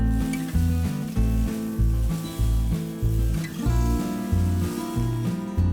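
Curry leaves and lentils dry roast in a pan while being stirred, giving rhythmic scraping sweeps about once a second with a light crackling sizzle underneath, close and fairly loud.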